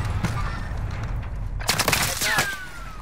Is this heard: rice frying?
no